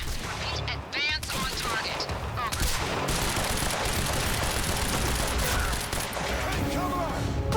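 Gunfire in the video game Quantum Break: dense, rapid bursts of shots that fill the whole stretch, with an excited voice talking over them.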